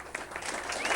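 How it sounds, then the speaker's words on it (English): A reunion crowd for a 1967 high school class claps together in a short, dense burst of applause, steady and moderately loud, heard from within the room. "give yourself a big round of applause"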